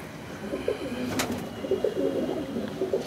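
A Madrasi flying pigeon of Tapan Da's bloodline coos softly nearby in repeated low murmuring phrases against faint room noise, with one short sharp click partway through.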